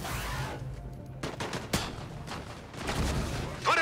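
Rapid squad gunfire in the video game Disintegration, crackling bursts of shots layered over a low rumble, with sharp individual reports standing out and a brief synthetic whine at the end.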